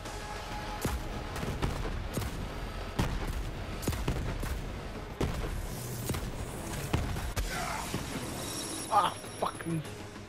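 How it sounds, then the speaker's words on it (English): Gunfire in Borderlands 3, a run of sharp shots scattered across the whole stretch, some in quick bursts, sounding amid steady game noise while a player talks over it. "I'm like shooting right at these guys and it's not fucking registering"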